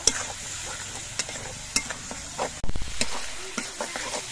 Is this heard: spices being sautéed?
yes